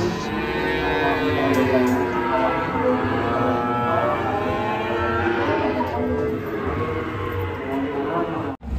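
Cattle moo continuously as two truckloads of cows arrive, several overlapping low calls close by, loud and sustained throughout.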